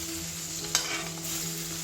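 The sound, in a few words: tomatoes frying in pan for Assamese fish curry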